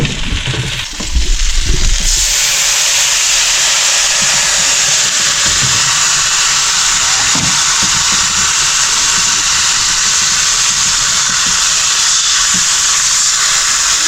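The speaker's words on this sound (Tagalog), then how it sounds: "Tignan ko na yung prito, Brad." Food frying in hot oil, a loud, steady sizzling hiss that starts after a brief clatter and continues unbroken at close range.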